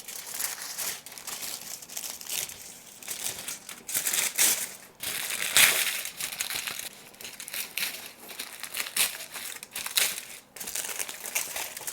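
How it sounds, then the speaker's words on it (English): Tinfoil is peeled off a cooled geode heart cake topper, giving close, irregular bursts of crinkling and crackling foil with short pauses between. "cool enough that you can start pulling off the tinfoil, you should be able to just peel it off pretty easily"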